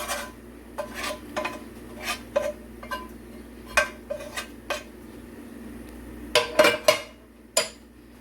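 Vegetables and meat being moved into a cabbage in a dish for a cabbage pie casserole: scattered clinks and scrapes of a utensil against the dish, irregular and close, with no voices.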